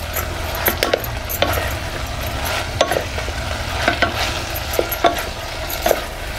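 Turmeric and onion-garlic masala stirred in a pan for spiced rice, with a soft steady sizzle and repeated light scraping taps of a spoon against the pan, no talking.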